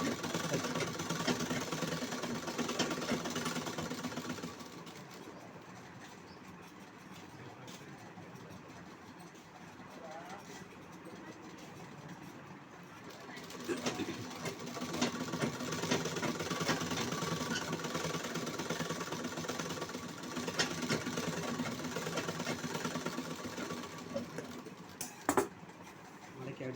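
A sewing machine stitches a folded blouse hem about one inch deep, its motor whirring in long runs that ease off for a quieter stretch and then pick up again, with a sharp clack near the end.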